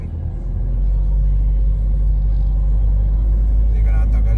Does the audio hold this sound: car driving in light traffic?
yes